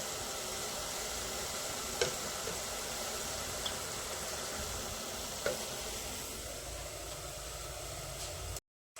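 Onions tempering in a hot pan give a steady close sizzle and frying hiss throughout, with a couple of faint clicks from a spoon or pan.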